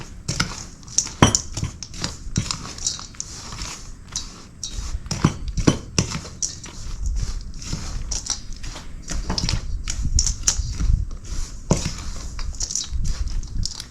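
Protein pancake batter with eggs being stirred in a bowl, giving a steady run of utensil clinks and scrapes against the bowl with no talk, fairly close and moderately loud.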